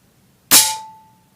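Single sharp crack of an air rifle shot fired through a chronograph, likely one of the Weihrauch HW99S, HW77K, Gamo Swarm or Remington Express, close and alone with a brief metallic ring trailing off.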